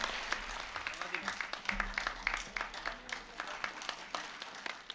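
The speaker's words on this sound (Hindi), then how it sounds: "जोरदार तालियों के साथ स्वागत कीजिए श्री चौहान जी का" Audience clapping to welcome a speaker at a health camp in Bhopal, an uneven, moderately loud burst of applause with individual claps standing out, a voice faintly present underneath.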